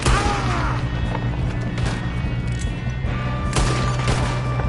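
Sustained video game gunfire in a firefight, a dense, steady barrage of shots with a few sharper bursts standing out, loud and continuous throughout without any talk.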